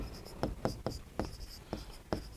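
Pen scratching out a handwritten solution to a prime factorisation problem in a Class 8 Hindi-medium maths lesson on squares and square roots: a run of short, crisp strokes in an uneven rhythm, close and fairly quiet, with no talk over them.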